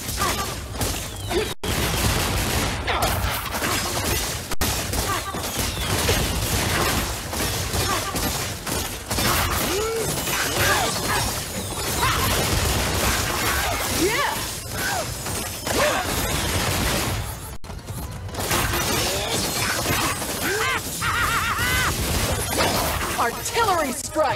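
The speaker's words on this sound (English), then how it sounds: "I need explosions, Bazooka Doomlander! Big ones!" Bazooka blasts and explosions go off in Skylanders Imaginators as a dense, almost constant barrage of booms, crashes and impacts over about twenty-four seconds, with a few brief gaps and a voice talking over the action.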